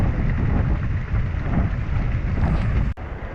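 A steady broadband rushing and grinding hiss of river silt and sand abrading the bottom of a float boat on the Snake River fills the clip continuously at close range with no voices.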